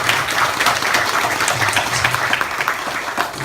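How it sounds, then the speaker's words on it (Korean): A church congregation claps in a sustained round of applause to encourage visiting members and bereaved families, a dense, even wash of many hands close by that carries on without a break. "우리 큰 박수로 우리 격려하고 드리겠습니다"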